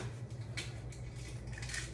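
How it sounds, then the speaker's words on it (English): Two eggs being beaten in a bowl for an egg wash, a soft steady scraping and clinking of utensil against dish that continues without pause, fairly quiet and close, with no talking. "I'm going to just scramble it up"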